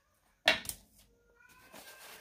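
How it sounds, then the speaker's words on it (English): A kitten lets out a single short, loud cry, sharp and close, followed by quiet rustling in an otherwise still room. "listen to my kitten screaming"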